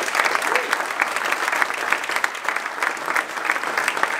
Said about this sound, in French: je vous demande un tonnerre d'applaudissements pour David.